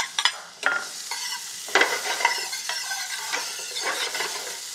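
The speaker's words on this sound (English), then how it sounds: "we're gonna saute some onions, and I've got a hot pan right here" Onions sautéing in a hot pan, a steady close sizzle broken by several sharp clinks and scrapes as a utensil stirs them.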